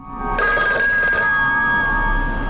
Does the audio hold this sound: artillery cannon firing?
no